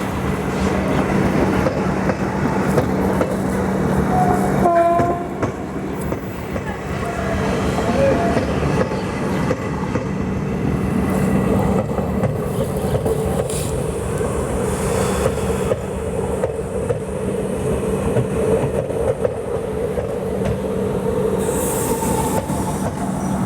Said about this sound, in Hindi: ये है तीस्ता तोरसा एक्सप्रेस, न्यू अलीपुरद्वार सियालदा